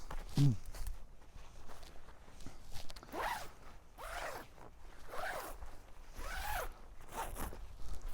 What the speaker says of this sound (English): this is what's gonna happen when you zip up your bucknet.